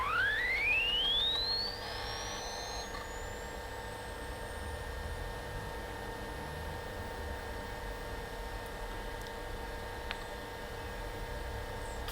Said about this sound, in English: the whine coming off of this screen is incredible